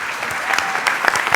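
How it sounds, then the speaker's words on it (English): Audience welcoming Dr. Jennifer Arnold with warm applause, a short, steady burst of many hands clapping in a large room. "let's give a very warm round of applause for Dr."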